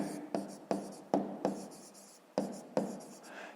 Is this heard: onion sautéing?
no